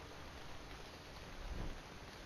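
Video game rain falls as a soft, constant hiss, faint and even, with one brief low rumble partway through and no voices.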